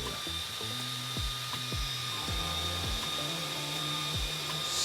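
A SP Space Player portable handheld turbo fan running at full 100% speed gives a steady high whine with a constant airy rush, while low descending clicks or thumps recur against it.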